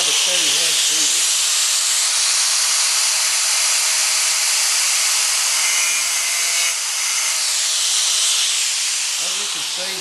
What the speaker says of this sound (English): I will now try and show you the technique of using the grinder to cut the track